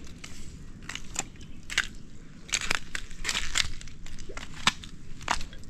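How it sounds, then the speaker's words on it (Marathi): Thin, plate-like coastal rocks on a seaside trail crack and crunch underfoot in a string of sharp, irregular snaps close to the listener, over a low rumble of surf. "पाय ठेवलं की तुटतात ते खालून."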